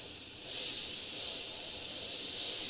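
An airbrush sprays white paint on a grim reaper miniature, giving a steady close, soft hiss that swells slightly after a brief start and continues alone for a few seconds.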